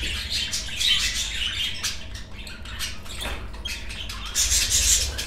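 Courting budgerigars chirp and squawk close by in a busy, overlapping chatter, with brief flutters and rustling under a steady low background.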